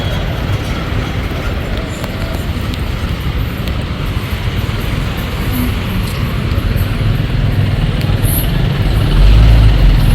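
Heavy road traffic in Nairobi, a steady dense rumble of engines close by with a continuous low-frequency roar and no clear voices.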